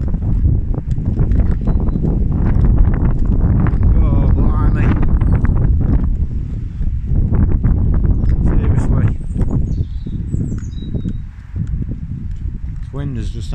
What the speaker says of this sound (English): The wind has just gone crazy.